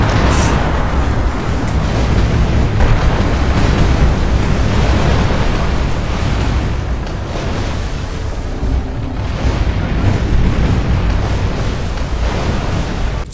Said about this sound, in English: More noise, more explosions.